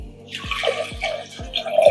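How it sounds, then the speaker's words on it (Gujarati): Water pours into a pot of lentils with turmeric, a gurgling, splashing flow with rhythmic glugs, close by and fairly loud. "અને હવે આપણે એમાં પાણી નાખી દઈશું"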